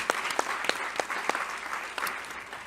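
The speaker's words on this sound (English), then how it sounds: "Let's give the senator another great round of applause." Audience applause for a senator at a healthcare roundtable: steady, fairly quiet clapping with distinct individual claps standing out at irregular intervals throughout.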